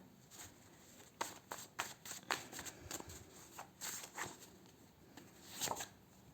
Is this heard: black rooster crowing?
no